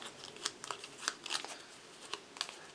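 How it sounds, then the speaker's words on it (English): A deck of Spirit Island game cards being shuffled by hand, a quiet, close series of irregular riffling flicks and snaps. "you shuffle them up"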